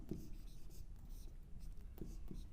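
Chalk or marker writing on a board during a Hindi grammar lesson, a faint scratchy stroke sound with brief taps, heard close under a quiet room.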